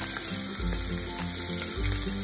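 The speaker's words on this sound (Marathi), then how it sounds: "कांदा टोमॅटो आपण थोडासा परतून घेऊयात" Sliced onion, chopped tomato and cumin frying in a pan give a steady, close sizzle over a low background hum, with no talking.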